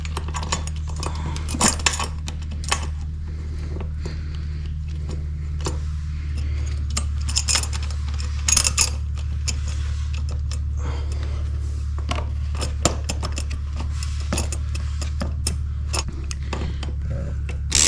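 Metal clinks and ratcheting taps of bolts being snugged up while fitting a DRC tail tidy on a Honda CRF 300L, close and intermittent over a steady low hum.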